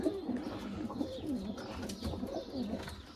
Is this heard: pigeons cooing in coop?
yes